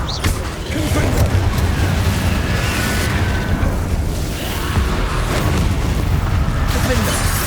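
Repeated booming blasts from the Confringo blasting spell in Hogwarts Legacy roll through dense, loud combat noise, with voices mixed into the fray.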